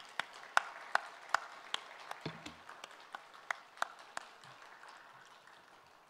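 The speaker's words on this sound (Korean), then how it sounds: "우리 새로운 역사의 주역이 된 삼부예배 헌신자들을 서로 바라보면서 박수로 격려하고 축복하도록 하겠습니다" Church worshippers clap for the volunteers of a service in scattered, sparse applause. A dozen or so distinct sharp claps ring out in a reverberant hall and thin out toward the end, with a brief low murmur in the middle.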